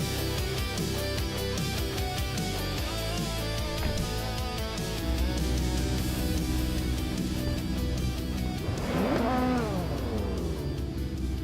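Race cars in a racing video game roar off the line together at the start of a race at the Ring DTM track, a dense wall of engine noise with rising revs and a sharp upward sweep near the end.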